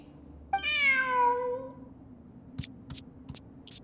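A single drawn-out cat meow from a Genshin Impact creature, clear and close, followed by a few soft clicking footstep-like taps.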